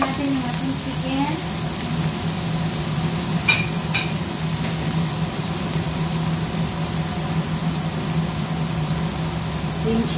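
Chicken sizzling steadily in a hot pan for a biryani, with scraping and stirring noises and a steady frying hiss throughout.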